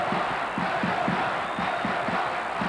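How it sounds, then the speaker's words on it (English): A basketball arena crowd at an Indiana vs Ohio State game roars steadily, a dense loud wash of voices with rhythmic chanting or stomping pulses underneath. "Crowd is getting alive"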